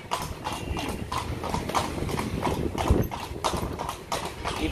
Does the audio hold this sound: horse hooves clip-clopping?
yes